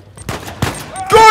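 Shotgun blasts ring out in a third-person action shooter, Uncharted 4, landing as about three sharp, loud reports in quick succession with a short ringing tail after the last one.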